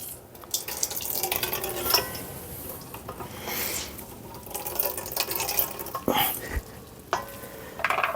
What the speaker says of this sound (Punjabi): ਪਾਣੀ ਬਹੁਤ ਨਿਕਲਦਾ ਪਿਆ ਨਾ